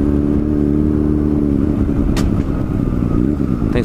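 A Yamaha FZ6 Fazer motorcycle ridden through traffic, its engine droning steadily and loudly close up with a brief passing whoosh, no voices.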